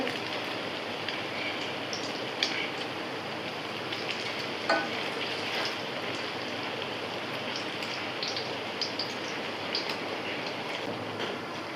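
Egg-soaked bread toast frying in a pan, a continuous dense sizzle that stays steady and close throughout with a few faint pops and clicks, no talking.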